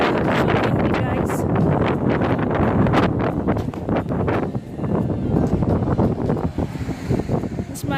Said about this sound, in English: Oh, it's so windy, it's so cold.